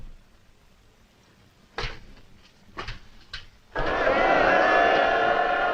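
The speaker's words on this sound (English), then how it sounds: "That is the crowd in the city square. You know who they're cheering?" A few knocks and thumps come first, then a crowd in a city square bursts into a loud, sustained roar of cheering that fills the last two seconds, in a 1950 thriller film.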